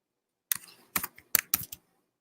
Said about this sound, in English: I'm not typing it in right.